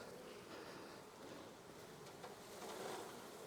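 A dense, steady buzz of many bees swarming close by, droning continuously without pause.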